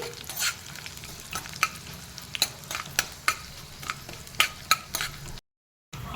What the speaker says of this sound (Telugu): అలాగే ఎండుమిర్చి కూడా బాగా వేగాలండి ఇవి.